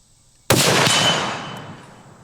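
An MK22 sniper rifle fires a single loud, sharp shot into the back of a flipped-around steel plate, with a bright impact crack whose ringing decay trails off over about two seconds outdoors.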